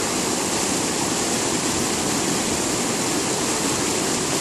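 Waterfall on a Michigan river about eight miles east of Lake Michigan, a dense, continuous rushing roar heard up close with no other sounds.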